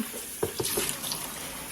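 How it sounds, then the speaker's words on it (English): Running tap water splashes into a sink as a wig is rinsed beneath the stream, a constant gush broken by a few brief splashy bursts as the hair meets the flow. "I'm going to hold my wig under the running water."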